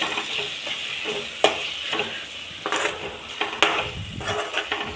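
Prawns and tomato sizzle in a pan while they are stirred and mixed. A constant frying hiss is broken by sharp scrapes and clinks of a spoon against the pan. No voices.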